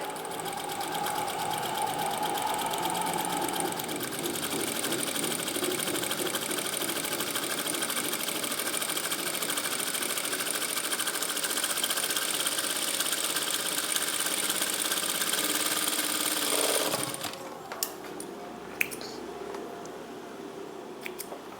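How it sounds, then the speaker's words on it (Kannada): A sewing machine runs in a fast, steady whir while stitching a folded, shrunk fabric curve, then stops near the end, leaving a few light clicks and handling sounds. "ಇವಾಗ ಇದನ್ನು ನಾವು ಫೋಲ್ಡ್ ಮಾಡಿ ಸ್ಟಿಚ್ ಮಾಡಬೇಕು."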